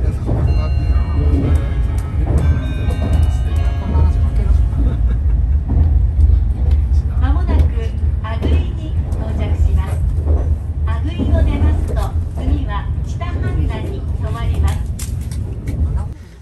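A Meitetsu train runs along the line near a station still under construction, with a steady low rumble and rolling noise throughout. A person talks over the running sound for most of the stretch.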